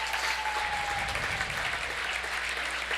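Steady crowd applause fills a gym at a girls' high school sectional semi-final basketball game, honouring a senior player as she checks out, with a faint announcer voice briefly underneath.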